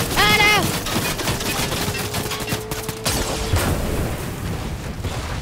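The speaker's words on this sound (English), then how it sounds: "They're shooting at us." Busy Fortnite firefight: a dense jumble of scattered gunshots and thuds at moderate loudness runs throughout, mixed with other game sounds and a brief rising tone near the start.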